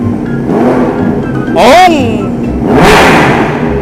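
A new four-cylinder big motorcycle starts up and revs in two sharp bursts, close and loud, over a rumbling idle, with people talking nearby.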